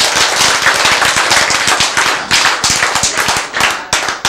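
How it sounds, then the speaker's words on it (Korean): Dense, loud audience clapping during a Korean lecture on healthy eating, many hands striking fast and unevenly in a steady burst with no voices over it. "박수."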